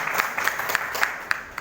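Meeting audience applauding first-time guests, a brisk round of clapping from a modest crowd with a few sharper individual claps standing out.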